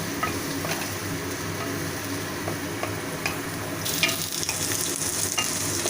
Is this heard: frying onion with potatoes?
yes